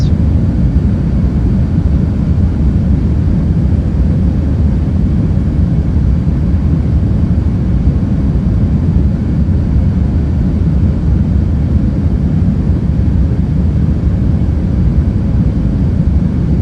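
A Qatar Airways A380 on landing approach in Microsoft Flight Simulator 2024 gives a loud, steady, low engine rumble from the cockpit that holds unbroken with no talk.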